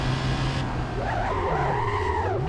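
Car tires skidding while drifting in BeamNG.Drive, a loud, continuous squeal that rises and wavers through the whole slide over a steady engine drone.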